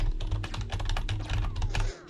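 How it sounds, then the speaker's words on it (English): Quick, steady keystrokes on a computer keyboard, a close run of clicky taps over a low hum that stops abruptly at the end. "Of the typing sounds on the keyboard."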